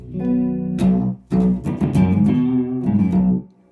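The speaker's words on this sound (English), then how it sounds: "slapback delay meets room reverb" Electric guitar plays short phrases through slapback delay with a quick echoing repeat and a roomy reverb tail, loud and close, with brief pauses between phrases.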